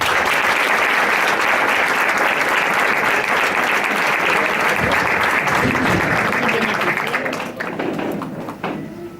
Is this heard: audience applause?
yes